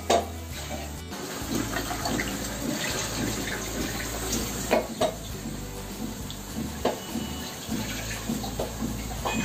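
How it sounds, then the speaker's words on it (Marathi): Water is poured into a pan of mackerel tikhla curry paste, a close, continuous splashing gush with a few louder sloshes and bumps. "आता थोडंसं मी त्यात पाणी घालते"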